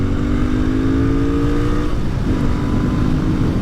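A Royal Enfield INT650 twin-cylinder motorcycle accelerating hard at full throttle, engine note rising steeply, dropping at a gear change and climbing again, loud and close with heavy wind rush.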